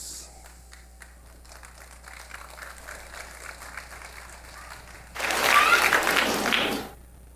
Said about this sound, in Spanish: Un fuerte aplauso, hermano